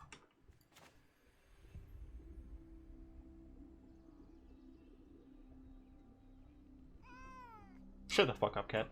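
A house cat lets out a clear, drawn-out meow, then a couple of sharper, louder cries close to the microphone, over a low background hum.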